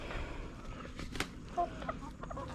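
Chickens on a farm cluck faintly in the background, with a couple of short clucks over outdoor ambience.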